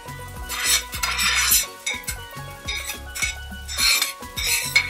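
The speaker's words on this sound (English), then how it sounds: "So we knock our spoon, get whatever excess stuff from that" A cooking spoon knocks against a pot several times in quick succession, shaking off food while making fried rice with chicken, with clattering metal, pan noise and stirring close by.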